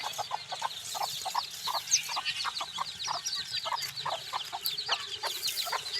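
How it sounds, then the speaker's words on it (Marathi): Many country chickens cluck steadily in a rhythmic chorus inside a poultry shed, a dense flock at moderate volume with no talking. "इथे एक कोंबडी आहे. अजून एक कोंबडी बसवलेला आहे."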